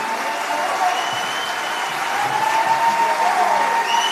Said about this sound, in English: Big round of applause. Applause for the boys in the choir and the boys in the big band.